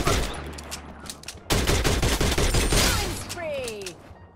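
Bursts of rapid gunfire from the video game Free Fire, a dense crackling volley growing louder midway, with a voice speaking faintly underneath.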